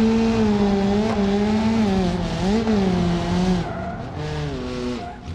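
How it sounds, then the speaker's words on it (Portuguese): Car braking hard in the BeamNG.Drive driving game, a loud continuous tire skid with wavering squeal tones over engine noise for several seconds, easing toward the end. "Ali eu dei uma freada boa no carro"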